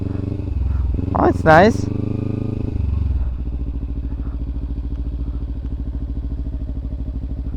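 A Kawasaki Ninja 300 runs through a motorcycle skills-test exercise, its engine holding a steady, close, low rumble the whole time, with a brief rise in revs early on while a person talks over it.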